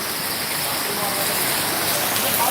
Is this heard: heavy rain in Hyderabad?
yes